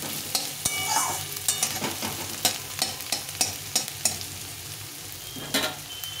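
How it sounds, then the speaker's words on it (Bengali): Onion frying in oil for a duck egg and taro curry, a steady low sizzle broken by regular stirring scrapes and clatters throughout, close and moderately loud with no talking. "পেঁয়াজটা একটু লাল লাল করে ভেজে নেব।"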